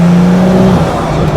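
A Gunther Werks Porsche 911 Turbo engine pulls hard under acceleration, a loud, close, droning tone that holds steady and then drops as a gear changes, heard from inside the car.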